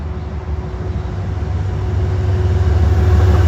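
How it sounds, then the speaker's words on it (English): Amtrak Empire Service train number 233 with a private car on the rear, rolling north through Inwood Hill Park toward the Spuyten Duyvil Bridge; a steady low rumble that grows slightly louder over the seconds, with no talk. "the Hickory Creek travels north through Inwood Hill Park, attached to the rear of Amtrak Empire Service train number 233."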